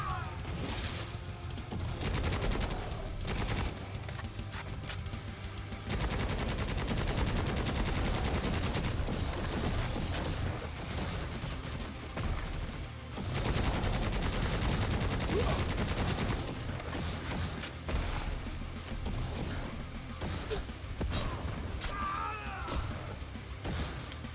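Gunfire in the video game Necromunda: Hired Gun, rapid bursts and sustained automatic volleys with booming impacts, pausing briefly around the middle before resuming, while a voice talks intermittently over the action.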